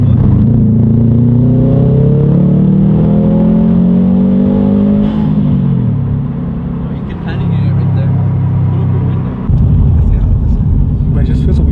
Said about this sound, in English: So we're gonna go for a drive in Camachos STi and see what kind of different sounds it makes now that the intake is in.